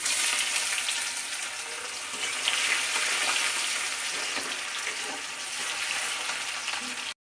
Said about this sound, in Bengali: এবার এর মধ্যে পেঁয়াজ কুচিগুলো দিয়ে দেব।